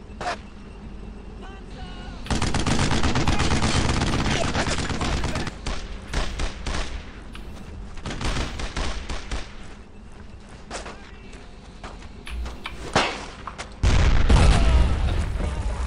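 Squad gunfire in Brothers in Arms: Road to Hill 30 bursts out in dense, rapid volleys of rifle and machine-gun shots with booming impacts, loud and continuous, and shouted voices break in now and then.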